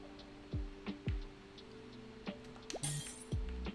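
Glass clinks and shatters in the video game Lofi Ball, with several sharp, quiet impacts spread across a few seconds and a brief crash near the end.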